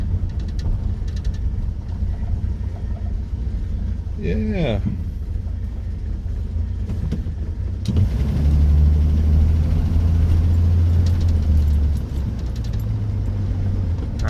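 A 1982 Ford F150 Bullnose pickup truck idles and then moves off from a stop sign, a steady low engine rumble from inside the cab that swells with throttle partway through, with a voice speaking briefly.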